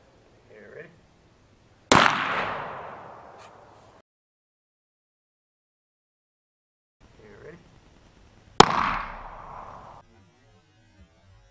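Two sharp air-gun pellet shots about seven seconds apart, each a loud crack followed by a decaying ring, with faint handling noise between and long silent gaps.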